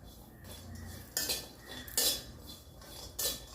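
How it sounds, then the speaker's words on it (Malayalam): Copra being dry-roasted over a low flame and stirred in a pan, with several distinct scrapes and clinks of a metal spoon against the pan over a quiet background. "ഈ ഒരു കൊപ്പര വറുത്തെടുക്കുന്നുണ്ട്"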